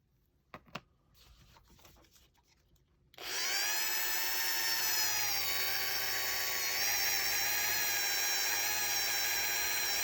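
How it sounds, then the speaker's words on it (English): A Dremel rotary tool grinds plastic on a custom fantasy figure, starting after a few light scrapes and taps with a sudden loud, steady high-pitched whine that holds for about seven seconds close up. "Problem with some of these plastics is the Dremel just heats it up and it melts it, becomes sticky."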